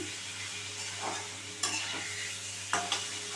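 Chicken pieces fry lightly in a little oil, a faint steady sizzle broken by a few sharp stirring scrapes near the pan, with no voices.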